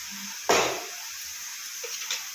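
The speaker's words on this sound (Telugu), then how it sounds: "వాటర్ వేసుకున్నాం ఇప్పుడు అన్ని వాటర్ వేసుకుంటే" Water is poured into a cooking pot in one short, close splash, then a quiet hiss of background noise with a couple of faint drips.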